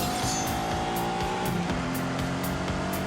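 A Lamborghini Countach with a 5.2-litre V12 accelerates in The Grand Tour video game, its engine note rising through the gears with brief drops at each shift, loud and close, with a faint squeal of tyres.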